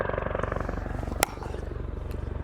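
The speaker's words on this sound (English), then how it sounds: "They got a helicopter coming right over the top of me." A helicopter passes close overhead at an outdoor pickleball session, a loud steady rotor chop pulsing throughout with a sharp paddle hit partway through.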